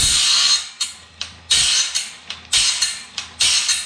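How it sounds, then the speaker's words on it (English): A band sawmill blade sharpener grinds steadily with both wheels turning, giving loud, close bursts of harsh grinding that repeat in a regular rhythm of about one pass every half second, with no talking. "that's exactly what you want to be happening as we're sharpening. Both of these wheels are turning."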